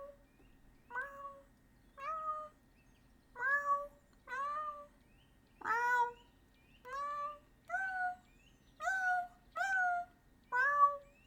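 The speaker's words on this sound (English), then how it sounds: "Thank you for the meow redeem, Nico." A cat meow sound effect played as a livestream redeem repeats about ten times in steady succession, each meow short, clear and upfront, with no talk over them.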